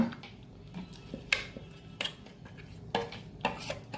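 Ragi and green gram batter is scraped from a grinder jar into a vessel, with several sharp metallic clinks and knocks of a spoon against steel at irregular intervals over a quiet background.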